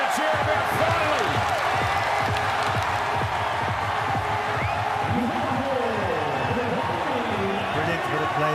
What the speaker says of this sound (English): The crowd gets something to cheer about finally.